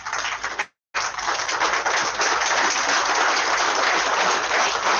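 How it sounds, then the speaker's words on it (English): Loud, sustained applause from an audience giving a standing ovation at a university foundation day ceremony, steady dense clapping with a brief drop to silence near the start. "A big round of applause."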